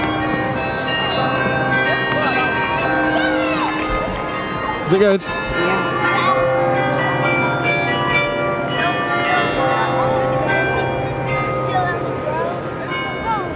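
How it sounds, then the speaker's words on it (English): Church bells in Bruges, Belgium ring on and on with overlapping tones over a busy street, with footsteps, a brief thud, and a couple of people talking briefly. "just going to watch the bells"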